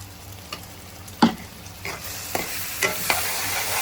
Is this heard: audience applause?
no